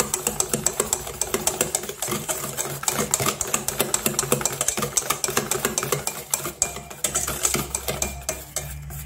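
A margarine mixture for crisp biji ketapang cookies is stirred by hand without a mixer, giving a steady, rapid clacking and scraping of a utensil against a bowl, close and continuous throughout.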